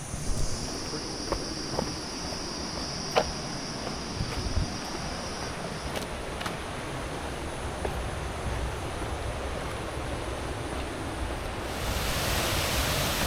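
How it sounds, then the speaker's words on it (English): A Costa Rican waterfall gives a steady, broad rushing roar close by. It holds evenly throughout with a few faint clicks and bumps on top, and it brightens and grows louder near the end. "Not the biggest waterfall I've seen in Costa Rica, but still a beautiful one."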